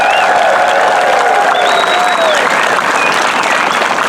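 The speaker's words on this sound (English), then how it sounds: "Let's give our veterans a big round of applause." A crowd gives a sustained, loud round of applause with some cheering at an outdoor Honor Flight homecoming event for veterans, steady clapping filling the whole moment without pause.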